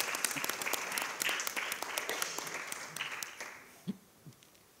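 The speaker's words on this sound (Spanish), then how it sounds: "que demos un aplauso a, a Manuel Darias" Applause for Manuel Darias at a forum on feminism: an audience claps fairly softly and in a crisp scatter, then thins out to a few last isolated claps near the end.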